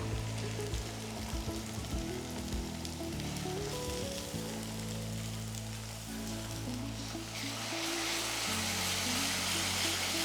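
Ground masala paste with green chilies hits hot oil for a potato and peas curry, producing a loud, continuous close-up sizzle that crackles steadily throughout with no voices.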